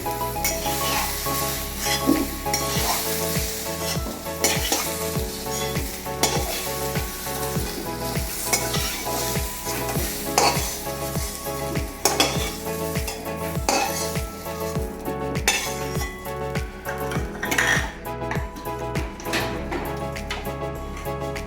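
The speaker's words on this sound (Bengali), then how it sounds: "আমার আলুগুলো ভালোভাবে লাল লাল করে ভাজা হয়ে গেছে।" Potatoes fry in oil in a kadai with a steady, close sizzle, broken by repeated rhythmic scrapes and clinks of a metal spatula stirring against the pan, continuous for about twenty seconds.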